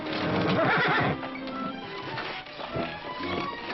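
A horse gives a loud, shaky whinny up close, followed by snorts and the clatter of hooves moving about.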